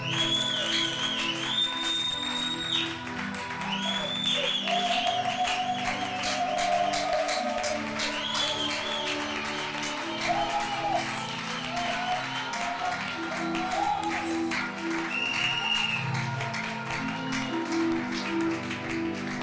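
A church congregation applauds and cheers, a long, steady wash of clapping with whistles and shouts rising over it, sustained throughout.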